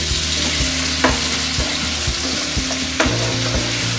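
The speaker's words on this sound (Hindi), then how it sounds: "टमाटर को हम अच्छे से भूनते रहेंगे जब तक ये पूरी तरह से गल ना जाए।" Tomatoes frying in a pan for South Indian tomato onion chutney, a constant hiss of sizzling broken by repeated scrapes and taps of a spoon as they are stirred, close and alone.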